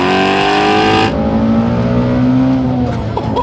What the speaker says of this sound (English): That's a very high-strung engine